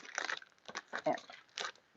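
A plastic bag holding clear cutting plates for a die-cutting machine crinkles up close in several short, quiet bursts of rustling, separated by brief pauses.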